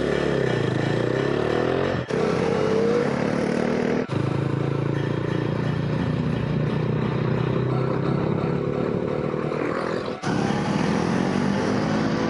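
A motorcycle engine drones steadily close behind on a winding road, with its pitch wavering up and down as it pushes to overtake, a few sharp clicks breaking the continuous roar.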